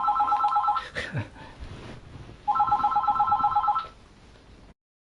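Two bursts of a warbling telephone ring, each lasting about a second, separated by a stretch of clatter and thumps before the room falls quiet.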